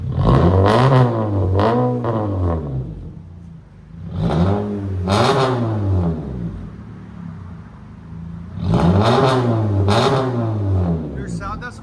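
A 2024 Honda Civic Sport with its 2.0L engine and straight pipes, revved loud and close in three bursts that climb and fall in pitch, idling between them.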